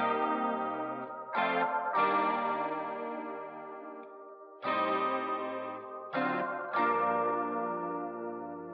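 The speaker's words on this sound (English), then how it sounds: "What he did was put the Arturia Juno chorus on here to make it kind of sound a little different" Guitar chords played through an Arturia Juno chorus plugin, giving a shimmering, wide, wavering tone. Several sustained strums ring out and decay, with no voices.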